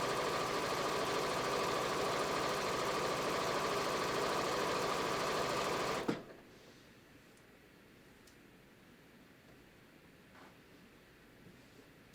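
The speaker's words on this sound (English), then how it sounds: "So I'm just going to start stitching." A sewing machine runs steadily while stitching a hem on yoga pants, a loud continuous mechanical whir and hum that stops abruptly partway through, leaving near silence with a few faint clicks.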